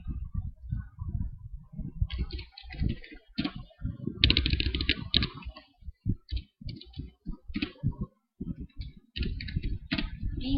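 Keys clatter in quick, irregular bursts on a computer keyboard while someone types a description into a wiki page, with a voice speaking intermittently over the clicking.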